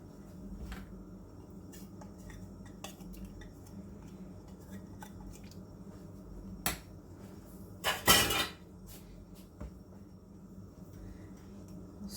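A utensil stirs butter and heavy whipping cream in a pan over medium-low heat, giving faint scrapes and light clinks against the metal, with a louder clatter of cookware near the end.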